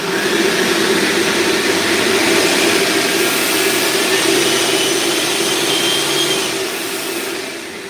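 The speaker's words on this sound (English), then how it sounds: "Let's go ahead and push it up to a full throttle run." Stubby Fan V1 drone ducted fan motor on a Spectrum Avian 100 amp ESC held at full throttle, a loud steady whirring roar with a strong constant tone that sags slightly near the end.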